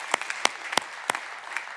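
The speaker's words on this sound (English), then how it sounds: "Now, you should clap for that." Sparse, scattered clapping from a church congregation: a handful of separate, fairly faint claps spread over under two seconds.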